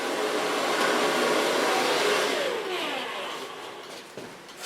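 A hair dryer blows steadily on short hair being styled, a loud continuous rushing whoosh that shifts slightly in pitch as it moves, then eases toward the end.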